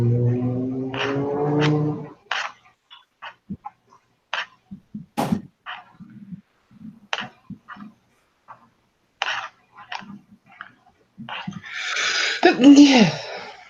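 A person sneezes loudly near the end, following a stretch of scattered voices, clicks and murmurs at a tabletop role-playing game session.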